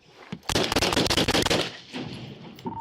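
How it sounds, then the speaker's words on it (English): Gunfire erupts during a police standoff with an armed suspect: a rapid burst of many loud, close shots over about a second, followed by fainter scattered sounds and a brief tone. "shots fired."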